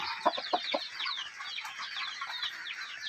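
Several chickens cluck and chatter together close by, a busy overlapping flock sound with a few sharper clucks near the start.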